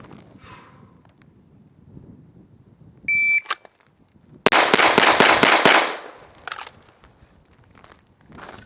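A stock Glock 17 pistol fired in a quick string of about half a dozen sharp, loud shots close by on a shooting range, preceded by a short beep and followed by quieter handling noise.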